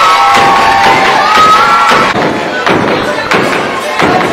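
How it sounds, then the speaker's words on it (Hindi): Loud crowd applause and cheering for a pandit during a stage play, dense clapping with shouts and thumps mixed in, close and sustained. "तालियां बजाइए जोरदार पंडित जी के लिए"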